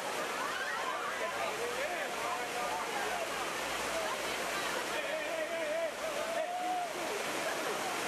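A waterfall at Ocho Rios, Jamaica, about 220 metres from foot to top, fills the air with a constant broadband rushing roar, while voices are faintly heard through the water.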